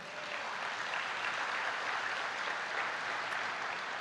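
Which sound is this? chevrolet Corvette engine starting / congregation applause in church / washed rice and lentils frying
congregation applause in church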